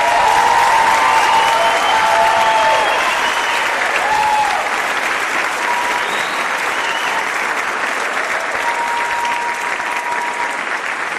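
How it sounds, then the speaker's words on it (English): A large crowd at a high school graduation ceremony breaks into sustained, dense applause that stays loud and even throughout, with faint cheering and some high tones mixed in. "Give yourselves a round of applause."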